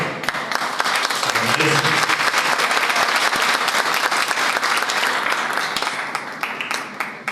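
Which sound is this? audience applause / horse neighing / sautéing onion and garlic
audience applause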